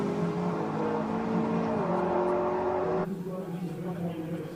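A 2013 McLaren MP4-12C with a twin-turbo V8 races at a hillclimb, its engine a loud sustained drone with a pitch change midway, then dropping off suddenly after about three seconds.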